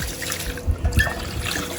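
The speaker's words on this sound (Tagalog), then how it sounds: "Ilalagay natin yung ating parboil mixture." Liquid parboil mixture is poured over milkfish in a cooking pot, giving a close, steady splashing trickle with a few low gurgling glugs.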